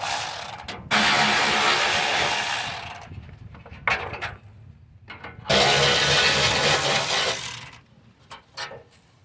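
A ratchet wrench removes a 10mm bolt from the transmission cross member of a Ford 5.4: two long, loud bursts of rapid clicking with short pauses and softer clanks between them.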